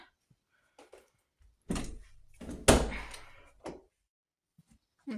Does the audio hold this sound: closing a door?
yes